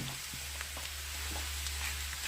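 Potato pieces frying in a pan over gas turned down low, giving a steady, soft sizzle with faint crackles, close and continuous, with no voices.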